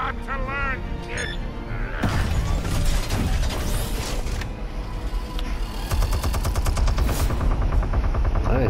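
A minigun turret firing in Batman: The Telltale Series, dense rapid machine-gun bursts and mechanical clatter that run loud and continuous, with voices speaking over the din.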